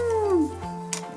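A cartoon cat meows in a Hello Kitty pet clinic video game, a single clear, tonal meow with a falling pitch over steady game background music.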